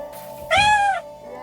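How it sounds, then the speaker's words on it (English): A cartoon cat in the game Toca World gives one clear, close meow, short and bright, standing alone over faint background hum. "Meow all you want."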